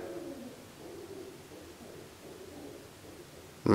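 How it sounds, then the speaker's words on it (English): Pigeons coo indoors in a castle, soft low repeated murmuring coos at a distance over a quiet hiss, ending with a sudden loud burst of noise. "We have pigeons, folks."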